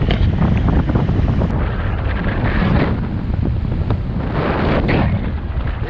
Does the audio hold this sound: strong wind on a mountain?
yes